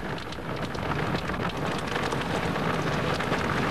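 A tropical rain shower pours down in a steady, dense hiss of drops striking the surface, loud and unbroken from start to finish, with no voices.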